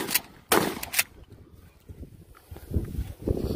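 Shotgun shots at an outdoor shooting range, with a few sharp blasts early and more muffled thumps and bangs following, mid-distance.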